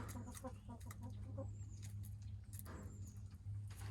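Backyard chickens cluck in short, scattered bursts while pecking at black soldier fly larvae treats, the calls close and moderate over a steady low background hum.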